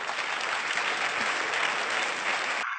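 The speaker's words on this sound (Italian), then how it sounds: "Ma che cazzo tenete a applaudire?" Studio audience applause on an Italian television show, a dense, loud, continuous roar of clapping that runs steadily for nearly three seconds and then cuts off abruptly.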